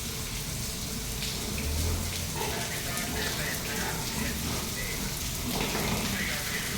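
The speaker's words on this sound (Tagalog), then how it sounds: "nagpa-shower ako sa mga baboy." Steady spraying water hisses continuously, like a hose running, as pigs are showered, with faint background noise and scattered pig sounds.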